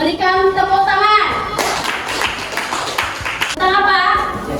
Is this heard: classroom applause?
yes